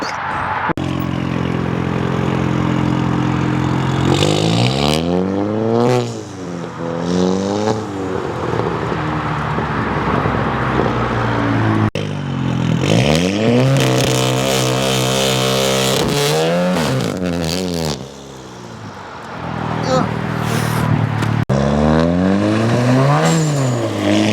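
A car revs hard through repeated rising and falling engine sweeps while spinning donuts, loud and close, with brief lulls between bursts and occasional voices.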